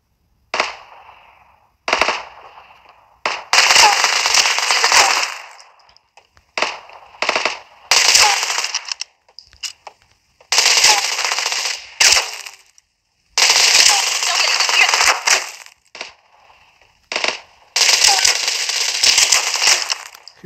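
Bursts of automatic gunfire from a Knives Out solo match, loud rapid volleys in several separate runs with short gaps, sharp single shots between them, and no talking.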